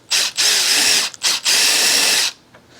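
A power drill bores a new hole in the bumper of a Tesla Model X, running loud and close in several long whirring bursts separated by brief pauses.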